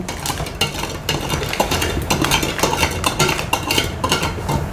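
Spoon stirring sugar and yeast into water in a bowl while making Thai toddy palm cake, a steady run of close scraping and clinking strokes with no talk.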